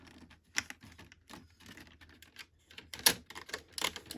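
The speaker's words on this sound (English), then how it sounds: "you just press down till you hear the clicking of the tabs getting into the groove" Plastic tabs of a Simplkomb beehive frame click into their groove as it is pressed together, a quick irregular series of sharp, close snaps and ticks, some louder than others, with no one talking.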